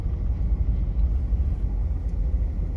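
A truck crosses a road near a site where concrete is being poured during Market Days setup in Rockport, Texas, giving a steady low engine rumble close by for the whole stretch.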